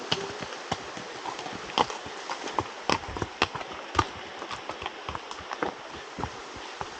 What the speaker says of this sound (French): Beau cheval.